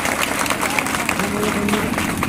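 Indian audience clapping to welcome folk singers at a rally in Aonla, a steady dense patter of hands close by with some crowd murmur and voices mixed in underneath.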